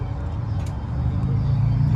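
Low idling and rumbling engines among parked classic cars at an outdoor show, a steady close motor drone with faint background hubbub.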